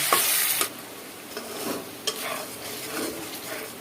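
Chopped, washed prawns hitting hot oil in a pan with onions, a loud burst of sizzling at the start that settles into a steady, quieter fry, with a few scraping stirs of a spatula, close by.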